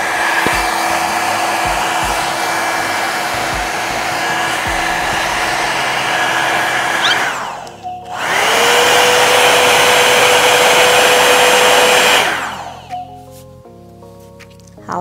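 A Revlon hot-air brush dryer roars steadily and loudly close by while curling hair ends, cuts out briefly, restarts for several seconds, then stops, leaving faint handling noises.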